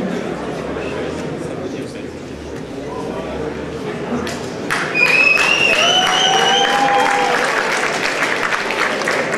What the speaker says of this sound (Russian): Я не понял, это кто сейчас идет, что вы аплодируете?